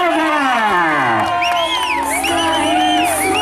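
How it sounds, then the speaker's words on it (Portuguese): A loud crowd at a birthday celebration in São Paulo's east zone cheers and whoops, with rising and falling shouted voices and shrill calls layered over a steady background roar. "A salva de palmas!"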